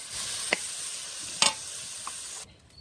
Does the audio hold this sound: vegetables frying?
yes